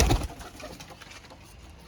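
A female pigeon offered for sale gives a short, close burst of sound right at the start, then only faint background hiss remains.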